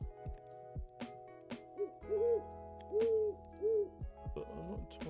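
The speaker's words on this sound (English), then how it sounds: "This is a loud ass owl." An owl from the Minecraft modpack ATM10 hoots loudly several times in a row, each hoot a sustained tone with short gaps between them, alongside faint clicks.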